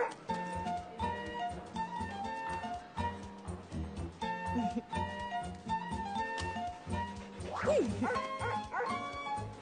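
A cartoon firehouse dog barks and yips in short repeated bursts over a busy animated soundtrack with music, fairly quiet and mixed with other effects.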